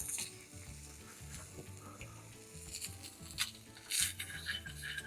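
Slices of Spam fry on a Trangia camping stove during a breakfast cook, giving a steady close sizzle and spatter with brighter crackling bursts toward the end.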